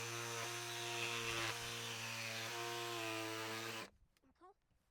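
A power saw trims pallet wood with a steady, loud, buzzing whine for several seconds, then cuts off abruptly and leaves faint handling noises.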